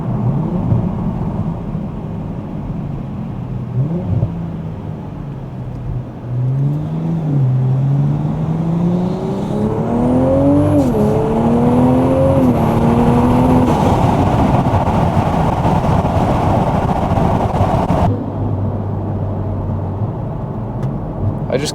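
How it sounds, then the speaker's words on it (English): A Toyota GR Supra with a titanium exhaust and an aftermarket intake drones steadily on a night drive, its engine note rising and falling through several revs and gear changes, heard close from inside the cabin. "I always find that I end up going back through the gears and just giving it a little bit, just to hear them pops and bangs"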